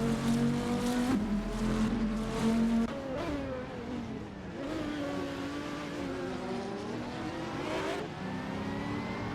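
A Maserati GT race car engine drones and revs continuously in a racing video game at Misano, its pitch rising and falling through gear changes with no pauses.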